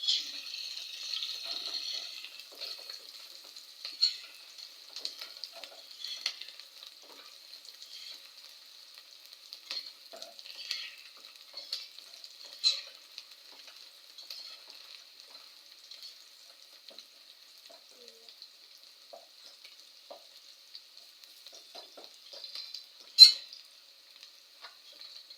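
Onions fry in a pan for a Kenyan-style egg stew, giving a steady faint sizzle with occasional crackles and a few soft stirring clicks throughout.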